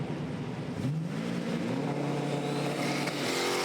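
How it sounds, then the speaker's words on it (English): A Lamborghini and a Mustang doorslammer launch side by side off the line at a drag strip, loud engines rising steeply in pitch as they accelerate away together, a sustained roar over the whole moment. "So cool to see a Lambo racing against a Mustang."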